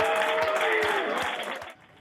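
Cheering and applause fill NASA JPL mission control after the Perseverance rover touches down on Mars, a dense crowd of clapping and whoops that holds steady, then drops off sharply near the end.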